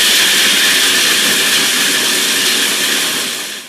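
A food processor grinds almonds into a coarse meal, a loud, continuous whirring roar close by that holds steady and then begins to wind down at the end, with no voices.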